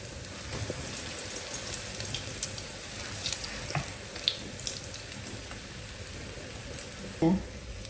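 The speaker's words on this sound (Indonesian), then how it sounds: "Setelah ini kita cuci piring ya teman-teman" Tap water runs steadily into a sink while dishes are washed in a home kitchen, a constant hiss broken by a few soft clinks and knocks, with a brief clatter near the end.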